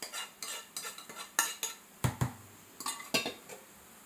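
Dishes holding gravy and biryani are knocked over by a child, giving a run of sharp clinks and clatters of metal utensils and plates, fairly close, with no voices.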